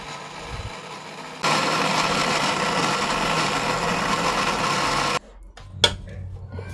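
A mixer grinder grinds fenugreek seeds into powder, its loud steady whir running for about four seconds before it cuts off abruptly, leaving a few faint clicks and handling noises.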